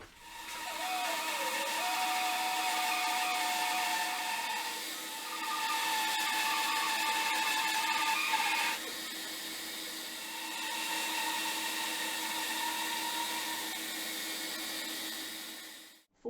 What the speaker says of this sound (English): To the bandsaw!